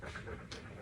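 A muddy pet dog pants close by indoors, a steady breathy huffing that runs through the whole short moment with no talk over it.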